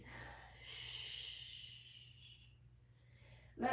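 A slow, audible breath during a yoga session, with a long airy exhale that swells and fades over a couple of seconds, followed by a brief sharper intake at the end, close and fairly quiet over a low background hum.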